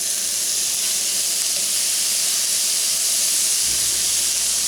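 Hamburger meat frying in a Lodge cast-iron skillet, a steady broad hiss of sizzling grease that holds evenly throughout, with a low rumble entering near the end.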